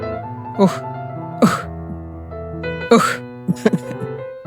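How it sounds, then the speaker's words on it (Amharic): Several short coughs break up over a sustained chanted tone, one at a time with pauses between, fairly close. "በመሃል መጠነኛ ሳል ይሰማል።"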